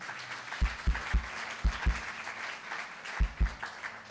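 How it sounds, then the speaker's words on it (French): A church congregation applauds during a Sunday worship service, a dense steady wash of clapping with heavier low thumps scattered through, moderately loud throughout. "Est-ce qu'on peut applaudir pour nous-mêmes, n'est-ce pas?"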